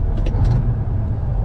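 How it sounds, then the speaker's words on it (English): A work truck's engine idling close by, a steady low diesel-like rumble held throughout the short stretch with no talk over it. "Sounds like a truck, looks like a truck,"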